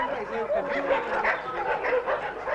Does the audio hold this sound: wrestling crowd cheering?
no